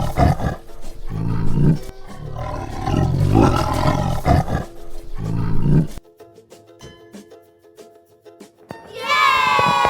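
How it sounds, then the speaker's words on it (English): A tiger roars loudly in deep, rough, sustained bursts for several seconds, then the sound drops to a quieter, thinner tail before another animal call breaks in at the end. "tiger, tiger, tiger माने चीता"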